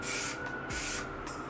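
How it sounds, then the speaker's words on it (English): Two bursts of spray lacquer hissing from an aerosol can close by, each about a third of a second, separated by a short pause, with a faint steady hum underneath. "I sprayed the front, the sides and the back piece with simple spray lacquer"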